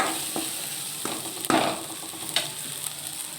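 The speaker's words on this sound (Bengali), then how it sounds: "দেখুন ভালোভাবে কষিয়ে নিচ্ছি।" Ingredients being sautéed in a pan for a banana flower and red lentil dal, a low sizzle broken by several distinct spatula knocks and scrapes, one louder clatter near the middle.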